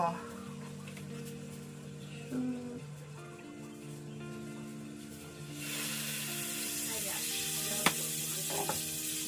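Oil heats and begins sizzling in a frying pan in a home kitchen, a faint hiss that grows into a steady bright frying sound partway through, with some background noise and a brief clink.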